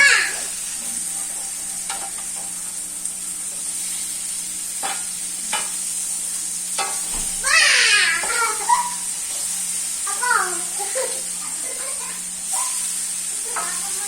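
Pieces frying in a pan for a curry: a steady sizzle and hiss runs throughout, with scraping stirs, and a short high voice-like wail sounds midway.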